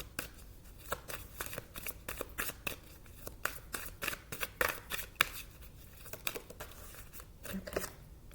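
A tarot card deck being shuffled by hand, a dense run of quick papery riffles and flicks close up, continuing steadily for several seconds without any talk.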